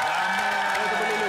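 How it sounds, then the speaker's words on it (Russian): Studio audience applause on a Russian TV game show, a dense, loud wash of clapping and cheering for a little over a second, with a voice speaking over it. "Эти аплодисменты вам."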